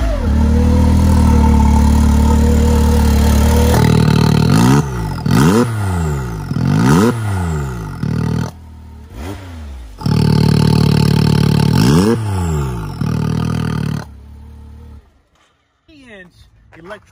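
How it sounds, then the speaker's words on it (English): A Can-Am Maverick side-by-side fitted with a blow-off valve recirculation kit revs hard at close range, with repeated throttle blips, each followed by a sharp exhaust-valve dump and whoosh between the bursts. "Electronic valve dumping exhaust."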